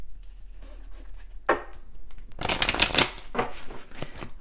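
A deck of oracle cards shuffled by hand, with a brief riffle and then a longer run of quick papery flutters and taps, close and fairly quiet.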